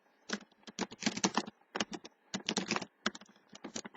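Rapid keystrokes on a computer keyboard, typed while entering an accounting journal narration, come in quick irregular bursts with brief pauses, close and clear, with no talking.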